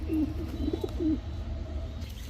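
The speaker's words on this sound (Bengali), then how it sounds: "এখন দেখাবো একটা রাজশাহী সবজি গিরিবাজ একটা মাদি কবুতর" Pigeons from a flock of Rajshahi giribaz high-flyers coo softly in a few low, rolling calls at close range, with faint background noise.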